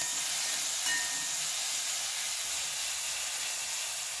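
Green chillies fry in hot oil with browned garlic for a village-style mustard greens dish, producing a loud, even, continuous sizzling hiss throughout.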